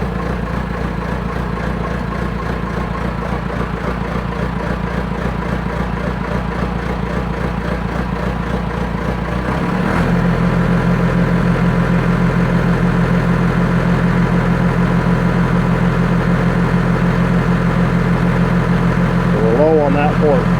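Massey Ferguson 3060 tractor engine running at a steady idle, a continuous low drone that steps up in level about halfway through and then holds, fairly close and alone with no talk.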